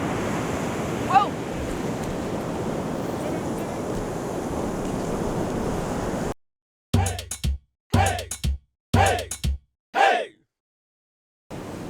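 Ocean waves break on a sandy beach in a continuous loud roar of surf with wind buffeting the microphone, then cut into short bursts of surf noise separated by silences.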